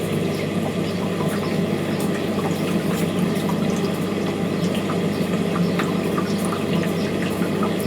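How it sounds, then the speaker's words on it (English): Water pours steadily onto moist soil while plants in a cut flower garden are watered at the end of May, a continuous close splashing hiss with no talk. "But I'll still give them good water."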